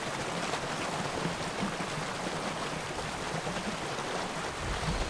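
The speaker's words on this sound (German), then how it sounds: "Ja, die Wasserfälle, die kennen wir ja." Steady broadband rush of a waterfall in The Witcher 3, a constant even wash of falling water with no breaks, heard alone at moderate level.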